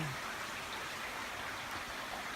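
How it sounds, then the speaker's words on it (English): Steady rain hisses down evenly, a soft continuous patter with no voices. "I am so glad it's finally raining."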